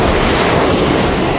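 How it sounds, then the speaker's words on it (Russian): Sea waves rush and wash in a continuous loud roar, mixed with wind buffeting the microphone. "Только ради этого моря нужно сюда прийти. Бескрайние волны, песочек."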